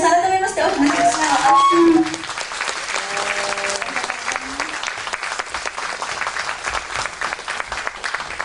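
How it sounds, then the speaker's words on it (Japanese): Audience applause at a spring festival stage event, a burst of clapping with a brief overlapping voice at the start, then continuing lighter, scattered clapping that gradually thins out. "皆さん改めまして大きな拍手を"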